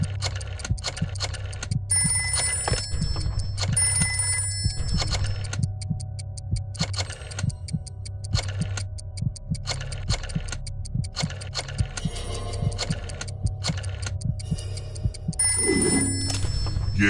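A rotary phone's dial clicks and whirs back again and again, alongside repeated ringing bells and a steady low hum, busy and loud throughout with no voices.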